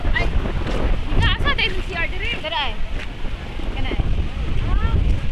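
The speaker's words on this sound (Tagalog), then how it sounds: "ingana kakusog ang hangin, murag bagyo" Strong wind at the sea buffets the microphone with a constant roar, while voices of swimmers call out faintly beneath the gusts.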